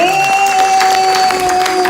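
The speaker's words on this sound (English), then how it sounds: "how about a nice round of applause for the host of today's show" Applause and cheering from a theme-park audience at the Horror Makeup Show at Universal Florida, greeting the host with a steady, dense wash of clapping and crowd noise that carries on unbroken, with a few sustained tones over it.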